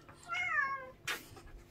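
A single cat meows clearly, a rising and falling cry near the start, followed by a short breathy sound; no talking, quiet room around it.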